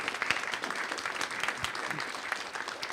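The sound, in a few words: audience applause for a speaker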